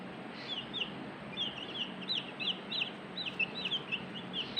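Six day-old broiler chicks peeping in a quick run of high, shrill cheeps, close by over a low steady background hum.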